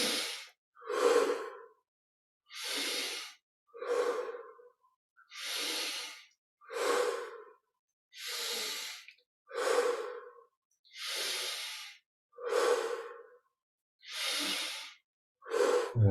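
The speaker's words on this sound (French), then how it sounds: "20 respirations profondes." Deep, slow breaths during a yoga exercise alternate between airy inhales and exhales, about a dozen evenly paced breath sounds, close and breathy, with short silences between each.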